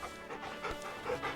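Torgal, a dog in Final Fantasy 16, panting rapidly and close in short breathy bursts with no talk over it.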